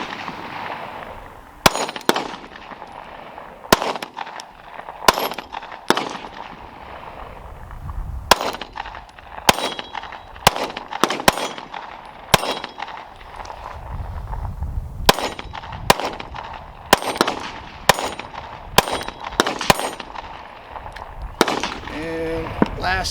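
Gunshots from a Glock 43X MOS pistol fired at a range, with a string of sharp, loud, close cracks, some spaced and some in quick pairs and bursts, over a low background murmur.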